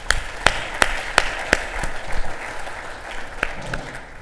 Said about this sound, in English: let's give them a round of applause for educating